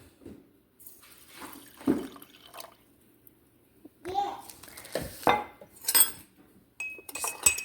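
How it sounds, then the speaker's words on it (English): A spoon stirs dehydrated sourdough starter with water in a small dish, making scattered clinks and scrapes with quiet pauses between them. Voices, including a child's, talk briefly in the background. "Stir it up"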